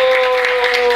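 Church congregation applauding during a French-language worship service, a brief steady wash of clapping with sustained tonal sounds, likely music or voices, running through it.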